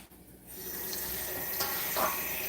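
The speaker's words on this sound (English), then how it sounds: "You're going to need a big pot of water." Tap water runs into a big pot in a home kitchen, starting suddenly and continuing as a steady, hissy splashing rush, fairly close but quiet, with no talking.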